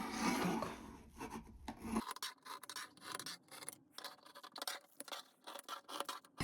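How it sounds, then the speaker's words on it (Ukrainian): Scissors snip slits into camouflage net fabric, giving a run of close, rasping cuts and rubbing scrapes in an irregular rhythm, fairly near and moderately loud, with no talking. "Беру ножиці і отак між ними, тобто посерединки, знову роблю надрізи."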